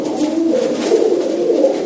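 Tumbler pigeons cooing in a loft, a steady soft murmur of several birds close by, continuous and fairly loud throughout.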